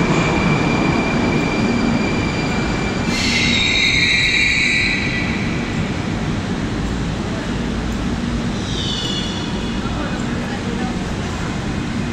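A Moscow Metro train rumbles along with a loud steady roar, high metallic wheel squeals rising twice over the noise.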